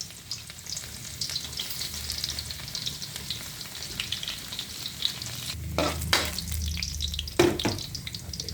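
Garlic sizzles steadily in a hot pan as a mung bean dish gets started, a continuous close frying crackle with a few louder stirring scrapes and clatters toward the end.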